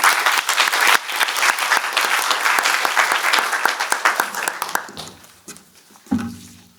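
A debate-championship audience gives a loud, dense burst of clapping that welcomes a speaker, then thins into scattered claps before a voice begins near the end.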